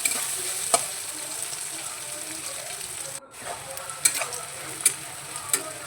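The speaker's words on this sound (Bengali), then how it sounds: "পেঁয়াজটা বেশ গোল্ডেন করে আমি ভেজে দিচ্ছি" Two medium onions frying in oil in a kadai, a steady close sizzle with occasional sharp clicks from stirring and one brief drop-out partway through.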